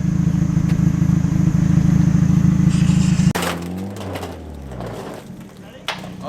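A vehicle runs on tires made from 55-gallon steel drums, giving a loud, harsh rumbling drone that cuts off abruptly partway through, followed by quieter engine sounds and a brief sharp clank.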